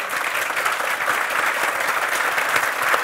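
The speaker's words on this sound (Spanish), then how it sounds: "pedirle un aplauso a Larry" Sustained applause from an audience at a talk by tennis coach Larry Stefanki, dense and even clapping that fills the space without a break.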